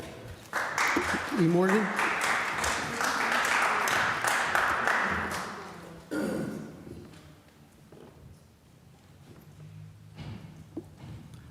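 Applause sounds from the audience at a Scranton city council public meeting, a burst of clapping for several seconds that fades out, followed by a voice speaking over the quieter room.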